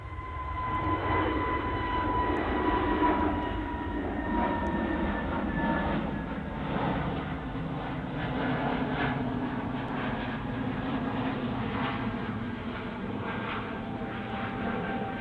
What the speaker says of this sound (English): The British Airways is about to depart from 23 right.